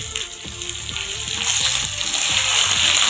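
Onions frying in a pan for a crab gravy give off a steady, fairly loud sizzle that builds slightly as it goes, with a few soft stirring knocks underneath and no talking.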